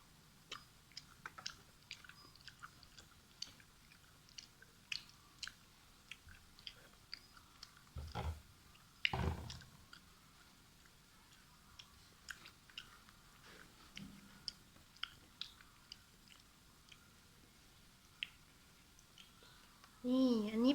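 Close-up chewing of grilled marinated pork belly: soft, moist, irregular mouth clicks and smacks, fairly quiet, with a couple of louder bursts midway and a short voice at the very end.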